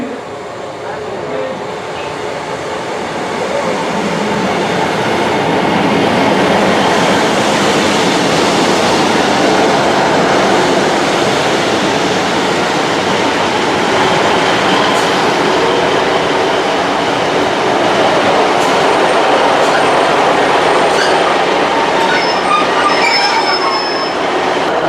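A passenger train on the Dartmoor Line near Okehampton, England, runs continuously with a loud rumbling roar and screeching wheel squeals building over time.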